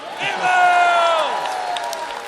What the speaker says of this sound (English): Can we hear a cheer for email?